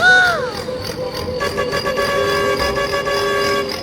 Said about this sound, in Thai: แตรลั่นๆนะครับผมลั่นทุ่งเลยครับ